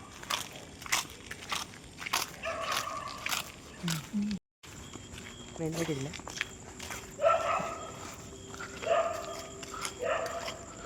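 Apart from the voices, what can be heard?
dog barking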